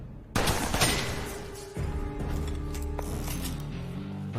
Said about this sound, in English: Shotgun him and pistol him in the head.